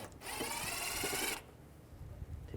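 A bumper screw on a 2010-2017 Chevrolet Equinox is run out with a 7mm socket, a quick high whirring burst of a powered driver lasting about a second, close up, followed by faint handling knocks.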